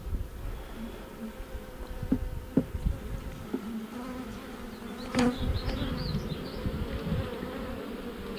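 Steady insect buzzing from many honey bees close by at a hive, a dense continuous hum with occasional louder passes and light handling knocks.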